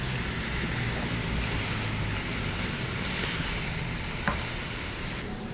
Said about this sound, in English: give this a mix